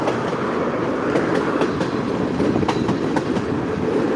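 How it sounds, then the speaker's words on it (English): A train rolls past nearby with a continuous rumble and rhythmic clickety-clack of wheels over rail joints, steady and loud throughout. "Well, there is the end of that train."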